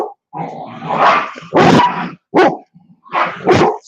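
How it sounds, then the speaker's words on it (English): A dog barks and yips repeatedly in a basement, several loud, close bursts echoing off the walls with short pauses between them. "Stop barking."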